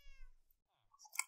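A cat in a Minecraft-style game lets out a short meow after a faint tonal sound, brief and fairly quiet.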